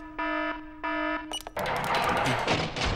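A cartoon alarm system being tested gives two loud, evenly spaced electronic beeps, followed by a sudden burst of harsh, noisy clatter that continues to the end.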